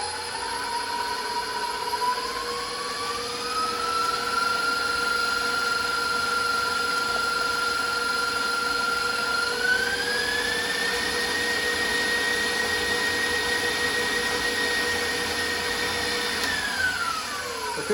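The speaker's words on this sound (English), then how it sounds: "We're beating the eggs and the pumpkin together." An electric mixer beating eggs and pumpkin together for keto pumpkin muffins gives off a steady loud whir, and its pitch climbs in steps as the speed rises, then drops near the end, with no talk.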